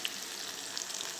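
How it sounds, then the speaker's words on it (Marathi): Finely chopped onions fry in a pan with ginger, garlic and green chili paste, giving a soft, steady sizzle at low level with a few faint crackles. "कांदा चांगला फ्राय होऊ देऊया।"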